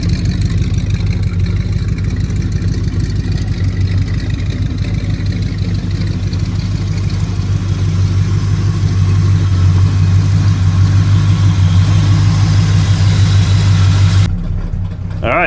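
A loud 1986 Chevrolet C10 pickup truck's engine runs steadily at a rough idle after being off the road for months, its deep rumble constant and close until it cuts off near the end.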